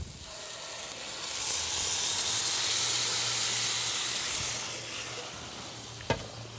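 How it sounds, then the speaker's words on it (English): Pureed San Marzano tomatoes hit a hot pan and sizzle with a broad, steady hiss that swells and then fades, ending with a sharp clank of a utensil. "we're going to take our pureed San Marzano tomatoes and we're going to add that right to the pan"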